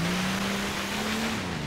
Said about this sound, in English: and some more diesel revving